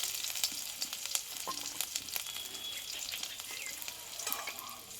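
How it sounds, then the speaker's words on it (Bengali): Cumin seeds, green chilli and crushed ginger sizzle in hot oil, with a continuous hiss broken by frequent sharp crackles and pops, close and without voices. "দেখো তেলটা কিন্তু গরম হয়ে গেছে দেবো হাফ চামচের কম একটু গোটা জিরে"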